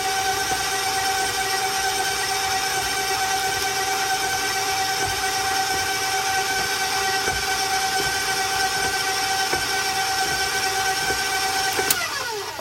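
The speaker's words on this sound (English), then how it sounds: "I'm going to speed up the motor a little bit here, putting the eggs in one at a time" Stand mixer motor whirring at a raised speed as eggs go into the dough one at a time, a steady loud mechanical hum with a brief clatter near the end, no voices.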